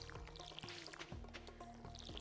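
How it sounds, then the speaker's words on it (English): A watering can splashes water over crops in a farming video game, a soft continuous trickle and pour, quiet and close, with faint game tones chiming behind it. "we water the plants"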